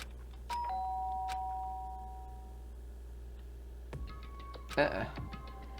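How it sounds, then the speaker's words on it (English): A doorbell in the video game Danganronpa gives a clear electronic chime that rings out and slowly fades, followed later by a few soft clicks and a brief bright burst. "did I hear the doorbell?"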